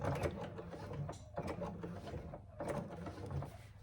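A sewing machine works slowly through thick bag layers, quiet uneven bursts of mechanical clatter and whirring stitches separated by short pauses, with faint room noise between.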